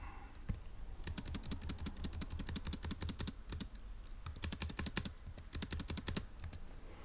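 Rapid typing on a computer keyboard, bursts of crisp, close keystrokes in quick runs separated by brief pauses.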